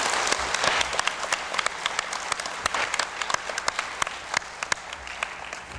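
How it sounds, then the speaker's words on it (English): A school audience applauds 4th and 5th grade students at a speech contest, with dense, steady clapping from many hands filling the hall for several seconds and sharp individual claps popping out near the listener. "we need to give them a nice round of applause once again"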